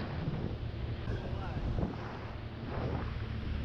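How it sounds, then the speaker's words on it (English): Northeasterly wind on the water by a boat among trees, a constant broad rushing roar with waves, close and steady, voices faintly mixed in. "The wind's picked up a little bit"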